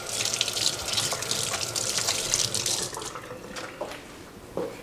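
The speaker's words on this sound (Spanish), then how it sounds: "Me voy a enjuagar las manos con un poco de agua tibia." Warm tap water runs from a faucet while hands are rinsed beneath it in a home kitchen, a steady close splashing gush with irregular spatters and drips, no talking.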